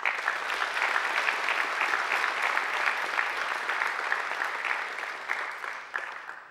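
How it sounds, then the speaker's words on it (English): Sustained applause from a large graduation ceremony crowd, steady and dense throughout, tapering slightly toward the end with no talking over it. "I think they deserve a round of applause too"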